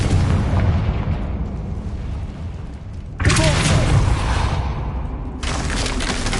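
A Confringo spell detonates in Hogwarts Legacy, a broadband blast bursting in loudly near the midpoint after a steady rumble, with a second burst later, all up close and unaccompanied by speech.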